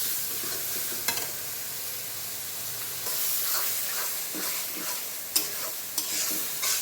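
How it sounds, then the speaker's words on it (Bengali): Lentils sizzle and crackle as they are dry-roasted in a hot pan, with a few sharp clinks and scrapes of a spoon stirring, steady and close, no voices. "ডালটা একটু ভাজা ভাজা করে নেই আগে"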